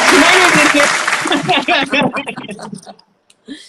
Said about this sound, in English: I am here clapping on behalf of everybody watching us.